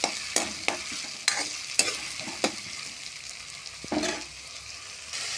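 Chicken curry masala with ginger paste and green chillies is stir-fried in a pan, a steady close sizzle broken by sharp scrapes of the spoon at irregular intervals, with no voices.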